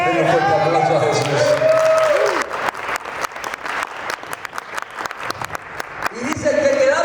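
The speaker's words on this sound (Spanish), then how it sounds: "Denle un fuerte aplauso a Jesús." A church congregation breaks into loud applause that rises over a preacher's voice, then continues as dense, rhythmic clapping before speech returns at the end.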